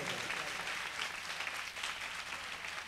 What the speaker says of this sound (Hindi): फादर शकील लोका के लिए एक दफा जोर से तालियां बजाई जाएं